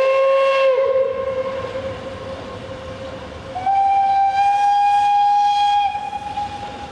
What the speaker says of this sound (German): Auf der Gegenseite fährt gleichzeitig der Sonderzug aus Rottweil auf Gleis 2.